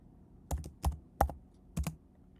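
Four short bursts of keystrokes on a computer keyboard, each a quick cluster of clicks separated by brief pauses, close and fairly quiet, with no talking.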